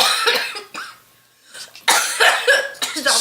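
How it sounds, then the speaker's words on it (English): A woman coughs in harsh, close bursts, loud enough to carry over a muted microphone: a quick pair, a short pause, then a longer string of loud hacking coughs. "her cough is so powerful that my mic picks it up"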